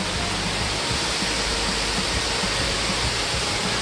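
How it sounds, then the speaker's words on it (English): A waterfall in wet weather at Siouxon gives a dense, steady roar of falling water, loud and unbroken throughout with no voices. "waterfalls."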